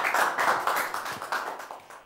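Light applause from a small audience as a singer is sent off to the stage of a televised singing contest, a short run of close, uneven claps with no talking.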